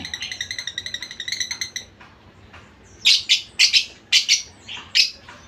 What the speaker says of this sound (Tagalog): Ayan ang aming dalawang alaga na lovebird. African lovebird. Nanganganta.